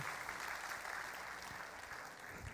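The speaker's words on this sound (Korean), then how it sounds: "여러분 뜨거운 축복의 박수를 부탁드리겠습니다" A church congregation claps warmly during a Sunday worship service, a continuous even patter of many hands at moderate distance, unbroken and without speech.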